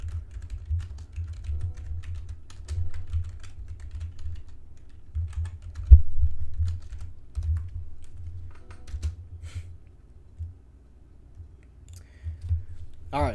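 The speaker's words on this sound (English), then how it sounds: "See if I can type this in here." Someone types on a computer keyboard in bursts of soft clicks over a low background rumble, with one sharper knock partway through.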